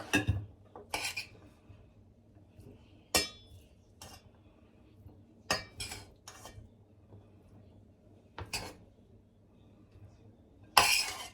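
A lid is set on a pot of still-hot rice pilaf in a home kitchen, with scattered metallic clinks and clatters of cookware spread out across the stretch, close and sharp against quiet background, no talking.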